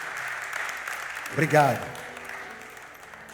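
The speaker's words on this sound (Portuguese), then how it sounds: "Aplauda o Senhor por eles." Church congregation applauding during a service, a steady bed of clapping from many people with someone briefly speaking over it near the middle.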